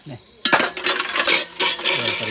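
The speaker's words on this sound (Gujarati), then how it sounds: "વાસણ ધોવાય છે ફટોફટ ધોઈ દો" Metal dishes, pots and utensils clatter and clink loudly in bursts while being washed, close by, with brief voices in between.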